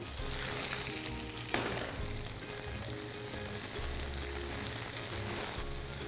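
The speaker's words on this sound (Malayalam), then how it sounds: "ഇതിലേക്ക് നമ്മൾ വട്ടത്തിൽ അരിഞ്ഞ് വെച്ചിരിക്കുന്ന ചുവന്നുള്ളി ഇടുക" Sliced shallots tipped into hot oil with mustard seeds for semiya curd rice, giving one sharp crackling burst followed by a steady, close sizzle.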